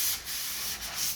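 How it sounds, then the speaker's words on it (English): Drywall joint compound on a seam being lightly sanded by hand, a short burst of soft, rhythmic scratchy rubbing strokes, close and quiet, with no talking. "I will lightly sand this just to get the high spots and the imperfections out"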